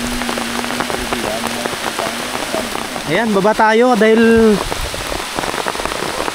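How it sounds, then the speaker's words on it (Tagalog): Heavy rain pouring outdoors on a farm field, a constant dense hiss of drops on surfaces, with people talking over it and one voice rising in a drawn-out call partway through. "lumakas yung ulan"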